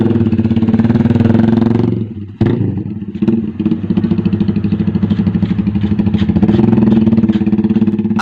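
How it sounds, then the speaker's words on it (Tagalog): A Lonsin Sigma 250cc motorcycle with an open pipe exhaust idles and revs loud and close, a deep, bulky, throbbing rumble with a short dip and blip midway before settling back into a steady pulse. "kapag naka-open pipe na to, talagang lalabas ang sounds na napakaganda talaga"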